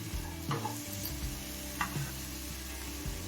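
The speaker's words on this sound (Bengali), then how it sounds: "পেঁয়াজটা দিয়ে আর দু মিনিট মতো ভেজে নিলাম" Chopped onion frying in a pan for oats pulao gives a steady low sizzle, with a few spoon scrapes from stirring, close by and with no talk.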